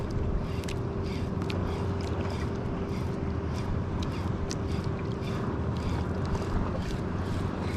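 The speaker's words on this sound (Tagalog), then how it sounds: "Medyo humahangin-hangin na." Steady wind blowing across open sea around a small fishing boat in worsening weather, a continuous broadband rush with buffeting on the microphone and faint lapping water beneath, no talking.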